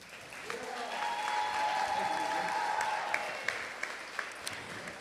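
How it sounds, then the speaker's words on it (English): An audience at an academy awards and graduation ceremony breaks into steady, sustained applause from a moderate distance, with a few sharper individual claps standing out toward the end. "That is something that we can all clap for."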